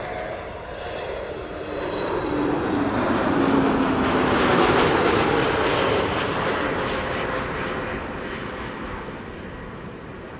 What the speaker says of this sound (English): Here we have another one of KLM's A321neos. This one is arriving from Rome, KLM flight 1602.